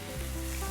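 Noodles with tofu frying in a hot pan, giving a steady, close sizzle that runs unbroken through the moment with no talking over it.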